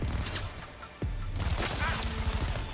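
Gunfire in Cyberpunk 2077 bursts out in a dense, rattling fusillade after a short lull, then rolls on loud and close with crashing impacts under game noise.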